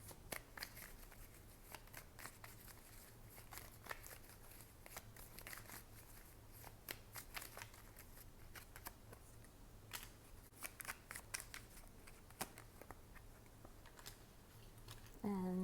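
Tarot cards being shuffled by hand, a close, quiet run of crisp flicks and riffling snaps in irregular bursts over a low steady hum, ending with a brief louder rustle.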